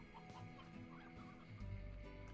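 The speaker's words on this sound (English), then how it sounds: "Swear I heard a chicken around." Slime Rancher video game chickens cluck in short, scattered bursts over a low background hum, fairly soft and near, with no voices.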